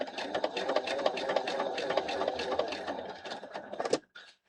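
A sewing machine stitching a pink fabric cushion runs in short rapid bursts, a close mechanical whirring chatter that stops abruptly near the end.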